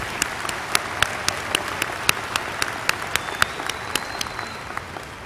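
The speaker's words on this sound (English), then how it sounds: "Let's give yourselves a round of applause." Graduates at a Stephen F. Austin State University commencement applaud in a large hall, dense clapping with sharp individual claps standing out in a steady rhythm.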